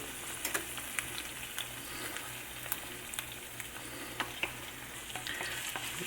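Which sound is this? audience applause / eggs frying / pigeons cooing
eggs frying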